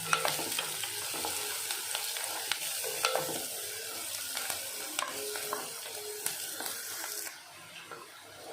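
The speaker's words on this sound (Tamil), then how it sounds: "இதில் கொஞ்சம் உப்பு ஆட் பண்ணிக்கிடுவோம் அப்போ தான் வெங்காயம் கொஞ்சம் நல்லா சீக்கிரம் வதங்கும்" Chopped onions with green chili and salt sauté in a pan for a chickpea masala, giving a steady close sizzle broken by frequent scraping and clinking strokes of a spoon, the hiss dropping quieter near the end.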